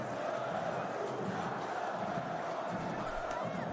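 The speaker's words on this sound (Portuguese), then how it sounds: "Vamos ouvir a torcida do Flamengo." Flamengo supporters at the Maracanã chant as a dense, continuous roar of massed voices, loud and steady throughout the short stretch.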